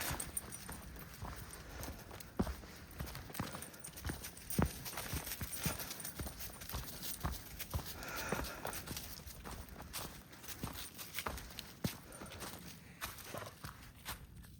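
A person imitates horse hooves with clip-clop sounds, quiet and uneven, in a still outdoor mountain setting.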